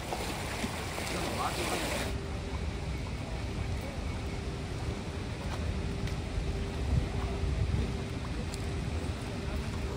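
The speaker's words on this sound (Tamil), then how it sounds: "தண்ணியோட ஃபோர்ஸ் சவுண்டு பாருங்கள் எப்படி இருக்குது" Water rushes with force at Amaravathi Dam in Tiruppur as a continuous broadband roar. A loud burst at the start gives way to a steadier, quieter wash with a faint tone underneath.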